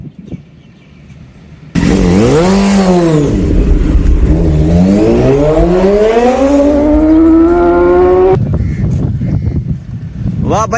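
A motorbike being ridden roars loud and close, its engine revving up and down in sweeping pitch changes for several seconds before easing off.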